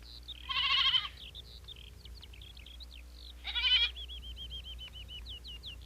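Goats bleat after being set loose in a valley, two loud quavering calls a few seconds apart with softer chirping bird-like cries between, against a low steady background.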